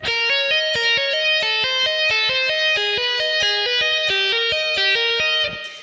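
A fast, even stream of distorted electric guitar notes tapped in a repeating descending pattern, loud and continuous for several seconds before stopping.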